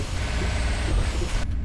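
A truck's air brake hisses in Euro Truck Simulator 2, a loud steady rushing release under engine rumble that cuts off abruptly near the end.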